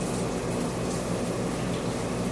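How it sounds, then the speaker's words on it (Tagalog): Water runs from a shower in a hotel bathroom in Angeles City, Pampanga, a steady dense rushing hiss heard close and continuous throughout. "Meron siyang tubig guys."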